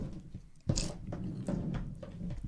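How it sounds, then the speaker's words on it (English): Close, crunchy chewing of a crab rangoon from Chinese takeout: a sharp bite followed by repeated moist crunches and mastication, loud against a quiet room. "You can hear my fat ass fucking chewing"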